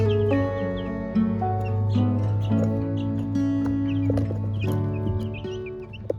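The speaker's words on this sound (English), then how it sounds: "There's 14 total chickens that you're gonna see roaming around me here as I talk." Backyard chickens in a free-range area of a flock of fourteen cluck steadily and close by, with overlapping calls and brief higher squawks over a constant low background hum.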